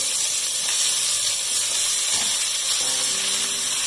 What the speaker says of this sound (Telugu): ఇందులో మనం ఇప్పుడు వంకాయ వేస్తున్నామండి.